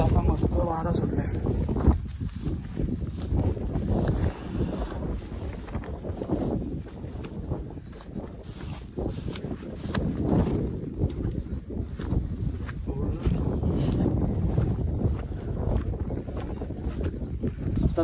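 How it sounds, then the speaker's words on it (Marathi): Wind gusts across an open hilltop on a forest trek, buffeting the microphone with a low, uneven rumble that rises and falls over about eighteen seconds, while people talk nearby. "खूप असा मस्त वारा सुटलाय."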